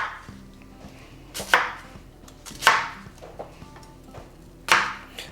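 A knife chops through a peeled onion on a cutting board, about three crisp, sharp cuts spaced roughly a second apart, close up over a quiet background hum.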